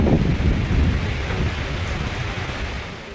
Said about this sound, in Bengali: বাড়ি ফেরার পথে শুরু হলো বৃষ্টি।